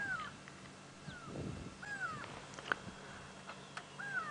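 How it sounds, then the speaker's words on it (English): Great go-away bird giving repeated nasal alarm calls on a sunset safari drive in the bush, faint and distant, several drawn-out downward cries spaced across a quiet outdoor background. "I can hear a great go-away bird calling."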